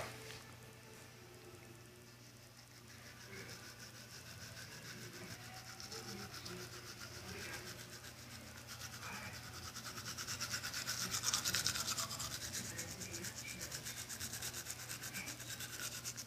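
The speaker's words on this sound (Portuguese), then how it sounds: "aí você vai escovar, vai fazer esse procedimento aqui, ó" Toothbrush scrubbing teeth during an at-home whitening routine, a steady soft rubbing and scraping texture running continuously near the mic, swelling slightly louder partway through, with no talk over it.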